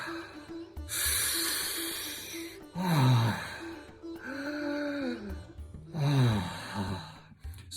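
Deep breathwork breathing during a guided session: repeated loud inhales and long exhales, gasping and sighing in waves, close to the microphone, with no talk over it.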